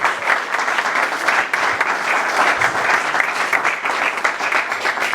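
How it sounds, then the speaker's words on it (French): A church congregation applauds loudly, a dense, sustained wash of many hands clapping at once that stays strong and even from start to finish. "J'ai dit acclamez très fort pour la gloire de notre Dieu"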